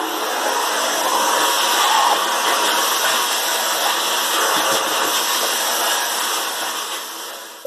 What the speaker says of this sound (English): I need to vacuum up underneath.